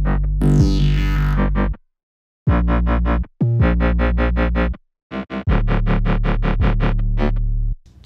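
Distorted EDM bass loop with a heavy, gritty low end and a sweeping effect at the start, played in pulsing rhythmic phrases with brief gaps, loud and alone.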